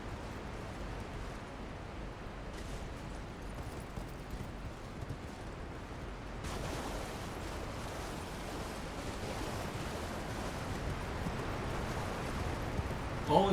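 A steady, full rush of falling water from a waterfall in the Elden Ring video game, close and constant, swelling a little louder partway through and holding there.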